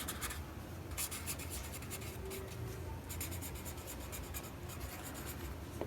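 Marker or chalk writing on a board during a maths lesson, with quiet scratchy strokes in short bursts over faint room noise.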